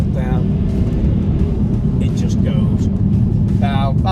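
A BMW F30 with a 3-litre diesel of about 310 bhp accelerates in a deep, steady engine rumble that holds throughout, with someone talking over it in short bursts.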